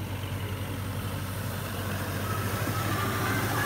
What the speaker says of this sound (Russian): Вот шум тракторов.